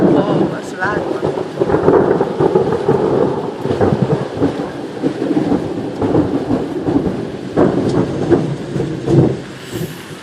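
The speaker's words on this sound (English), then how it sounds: "Whoa, that's a loud one." Loud, close thunder during a thunderstorm, a long rolling rumble with rain in the background.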